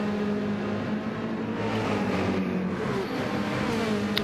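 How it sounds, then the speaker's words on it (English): A BMW race car's engine revs steadily and hard in a racing video game on a wet track, a loud continuous droning whine holding pitch with slight swells, no voices over it. "Fuds still revving the BMW out"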